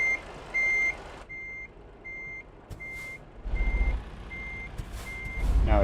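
A truck's reversing alarm beeps steadily at an even rhythm while backing up in American Truck Simulator, accompanied by the low rumble of the engine, which swells louder toward the end.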